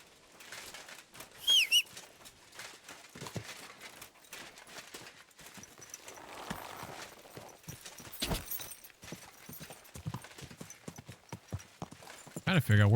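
Steady clip-clop of horse hooves trotting at a moderate pace in Kingdom Come: Deliverance 2, with occasional bird calls and a brief voice in the background.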